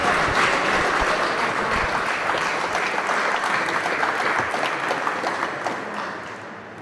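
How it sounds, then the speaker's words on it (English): Sustained audience applause for both players at a men's senior softball final, dense steady clapping from a crowd that tapers off toward the end. "big hand of applause for both players there"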